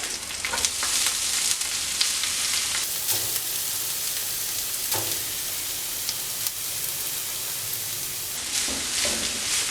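Bitter gourd mixture frying in a hot pan for a Kerala pavakka thoran, a steady loud sizzle with scraping stir strokes throughout and no talking.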